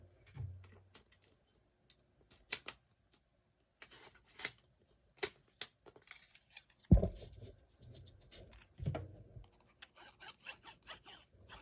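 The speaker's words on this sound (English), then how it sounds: "I'm going to not cut straight here" Scissors snipping paper for a snowman stepper card, sparse close cuts and ticks separated by quiet gaps, with a couple of louder rustles and thumps mid-way and no talking.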